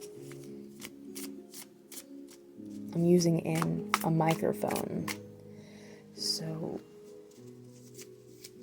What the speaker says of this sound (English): I'm going to actually shuffle away from the microphone